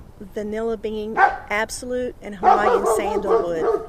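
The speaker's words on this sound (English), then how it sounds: "And I apologize for my dog." A pet dog named Nico barks repeatedly indoors, close and loud, in a run of sharp yips and barks over a person who keeps talking.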